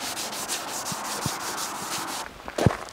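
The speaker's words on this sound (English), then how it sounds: "I've just spent another 10 minutes with the Scotch-Brite pad with the WD-40" Scotch-Brite pad with WD-40 scrubbing an aluminium wheel rim, a steady close rubbing swish that repeats back and forth for most of the stretch, then stops, followed by a few brief knocks.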